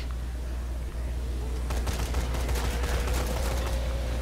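Gunfire in the zombie video game Dead Rising 3, a steady run of rapid shots starting partway through over a constant low background hum, loud and close with no talk over it.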